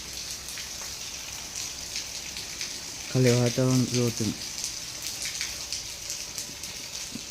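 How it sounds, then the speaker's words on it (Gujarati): Heavy rain falls steadily outdoors, a constant hiss of drops hitting surfaces that carries on throughout, with someone speaking briefly over it midway. "વરસાદ એટલે ફૂલ ચાલુ છે."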